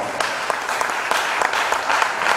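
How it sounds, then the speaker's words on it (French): A crowd at a Beninese intercession gathering claps loudly and continuously, with a thick, steady wash of applause and no pause. "Je vous prie de les applaudir très fort."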